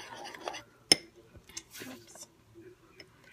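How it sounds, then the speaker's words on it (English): Light clinks and scrapes of a teaspoon mixing henna paste in a bowl, one sharp tap standing out among soft, irregular stirring sounds, with faint breathy noise. "just a regular teaspoon to mix"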